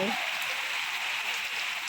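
Heavy rain pours down steadily all day, a dense, constant hiss of water striking surfaces close by, with runoff flowing and a brief voice at the very start.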